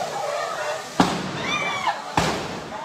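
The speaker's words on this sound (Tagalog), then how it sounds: "Kuha sa videong ito ang pagsabog na galing umano sa nasusunog na LPG." Two sharp blasts about a second apart from a burning LPG tank at a fire in Bagong Silang, Caloocan, booming loud against a steady background roar, with faint crackling between.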